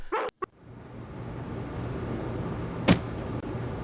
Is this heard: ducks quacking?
no